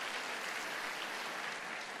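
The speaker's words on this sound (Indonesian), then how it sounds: "Tepuk tangan buat jemaat yang luar biasa." A church congregation claps in a steady, even wash of applause, fairly quiet and continuous with no talk over it.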